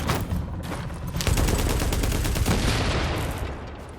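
Machine gun fire in The Division, a continuous loud rattling burst of rapid shots lasting several seconds, near and alone with no talk.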